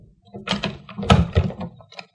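An old radio-drama door is tried and opened: a handle rattles and clicks, then a few knocks and thunks as the latch gives and the door swings, close and distinct against a quiet background.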